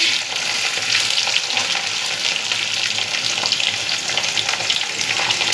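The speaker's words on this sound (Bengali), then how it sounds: "এখানে একটু চাক চাক করে আলু ভাজা বসিয়ে দিয়েছি।" Thickly cut chunks of potato fry in a pan with a steady, dense sizzle that holds at an even level throughout, and no voices.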